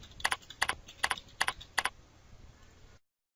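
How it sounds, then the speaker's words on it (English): Five quick, evenly spaced clusters of key clicks on a computer keyboard, close and crisp, followed by a short quiet stretch before the sound cuts off. "I'm going to type in fixed commode."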